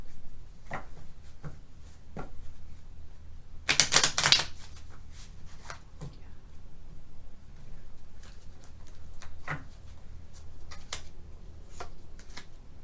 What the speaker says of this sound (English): Maybe one more shuffle.